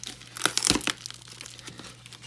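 A large parcel from AliExpress holding an LED projector is torn open, giving close, brief crinkling and rustling of packaging with a few sharper crackles and no talking.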